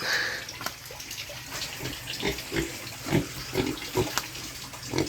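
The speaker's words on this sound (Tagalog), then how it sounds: "Alagang baboy" Pigs grunt and snort in short repeated bursts over a steady wash of running water, fairly close, with no talking.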